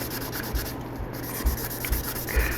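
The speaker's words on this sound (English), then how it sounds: "I always give these kits a light sanding with the super fine sanding sponge" Soft, steady rubbing of a super fine sanding sponge against a smooth resin model kit, repeated in short strokes close up.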